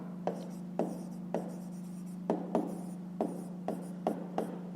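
A pen writes numbers on paper for a fifth-grade math exercise, producing a series of short scratchy strokes and taps, close and quiet over a steady low hum.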